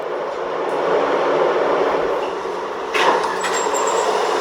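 A New York subway Z train running on its line, a steady rumbling roar of wheels and carriages with a brief clatter and rise in noise partway through.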